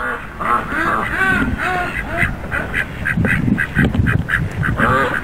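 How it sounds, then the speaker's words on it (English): Several ducks at a waterside in autumn quack loudly and close by in quick, overlapping bursts that run almost continuously, with some speech-like noise mixed in. "Then I found the ducks."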